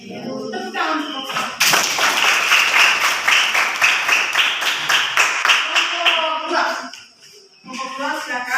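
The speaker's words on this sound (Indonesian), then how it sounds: "Tepuk tangan untuk" Classroom audience clapping for a student presentation group, a dense burst of many hands starting sharply and sustained for several seconds before fading, with children's voices talking before and after.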